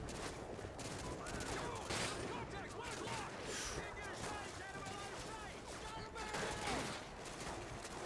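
Rapid gunfire in Call of Duty: Modern Warfare 2, dense repeated automatic shots and crackling bursts throughout at moderate loudness, with someone speaking over the shooting.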